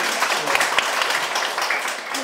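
An audience applauds a poet at the close of a humanities lecture at a literature museum in Daegu, a short burst of dense clapping that holds steadily for a couple of seconds.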